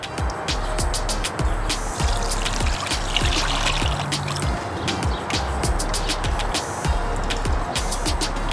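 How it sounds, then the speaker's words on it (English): Wet clay being worked through a sieve outdoors in a forest, giving a steady close trickle and dribble of watery slurry with scattered drips and small scraping taps, no talking. "I take a sieve and pass the clay through it."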